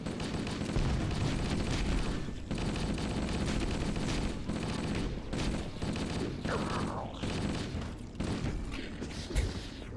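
Sustained assault rifle fire in the video game Cursed Halo, a dense, loud stream of rapid shots with brief gaps and mechanical clatter mixed in.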